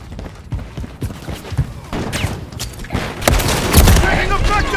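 Heavy gunfire and explosions in a Call of Duty MW3 multiplayer War match, with scattered shots building into loud, overlapping bursts and booms toward the end; game voices and chatter sound underneath.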